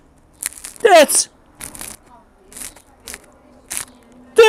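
Close, loud crunchy bites and chewing of double-fermented poolish pizza crust, a few distinct crackling bursts separated by short pauses, with no speech.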